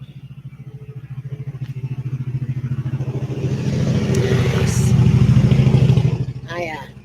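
A motorcycle engine runs at a steady rumble that swells louder as it draws near, while a person talks over it and a short exclamation is heard.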